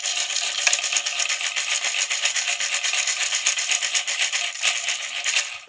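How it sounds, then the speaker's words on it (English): A Fossilis dig kit box with toy bones and small hammers inside, lid on, shaken gently, giving a steady close rattling and scraping of loose pieces for several seconds with no talking. "you'll put the lid on here, and then you'll shake it gently"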